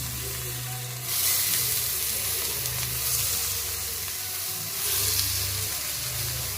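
Raw banana pieces dropped into hot oil for aratikaya fry crackle and sizzle loudly up close, with surges around one and five seconds as more pieces go in. No voices.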